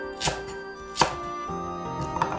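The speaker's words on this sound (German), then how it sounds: "Lauchzwiebel in dicken Scheiben schneiden." A knife chops spring onions into thick slices on a cutting board, three distinct sharp knocks spaced about a second apart, close and clear with no talk.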